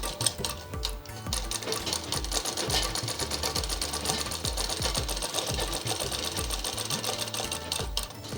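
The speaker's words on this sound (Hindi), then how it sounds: "इसकी भी डबल सिलाई कर लेंगे।" Sewing machine double-stitching a frock in a tailoring lesson: a fast, continuous mechanical rattle of needle strokes with a throbbing low thump, steady and close throughout with no talk.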